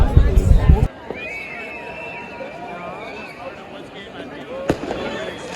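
New Year's Eve fireworks bursting repeatedly near a castle wall in Germany: a loud crackling blast, then whistling rockets and scattered distant pops over a crowd's murmur and nearby voices.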